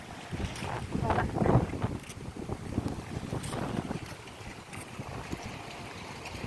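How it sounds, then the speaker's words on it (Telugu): Strong sea wind at the seashore buffets the microphone in steady rough gusts, with a faint voice now and then underneath. "గాలి ఎక్కువగా ఉంది"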